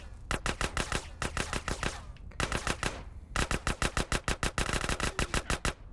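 Rapid automatic gunfire in GTA: San Andreas, three long bursts of evenly spaced sharp shots with brief gaps between them, close and without speech.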